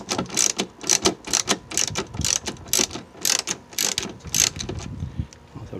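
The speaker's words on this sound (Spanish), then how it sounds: "vamos a necesitar un dadito del número 12 o una llave del número 12" Ratcheting clicks of a socket wrench loosening a tail light screw on a 2006-2010 Ford Explorer, a fast run of close, crisp repeated clicks in short bursts, no talking.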